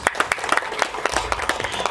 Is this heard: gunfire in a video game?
no